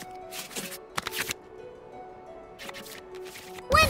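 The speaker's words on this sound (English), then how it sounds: "select any number of cards in our hand to shuffle back into the draw pile" Card shuffling from the Genius Invokation TCG card game in Genshin Impact, with several short riffling bursts as cards return to the draw pile over a faint steady game background, ending in a brighter chime.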